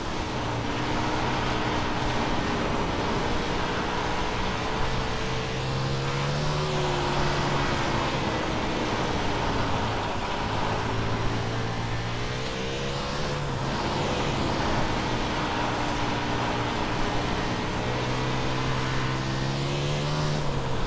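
A USAC 360 sprint car engine in the iRacing sim drones steadily and loudly, its pitch rising and falling in long sweeps as the throttle works through the corners, alone without talk.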